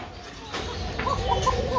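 White Arabian pigeons coo softly in a pigeon seller's collection, giving a few low, muffled calls under faint background noise, with light chirps coming from nearby birds.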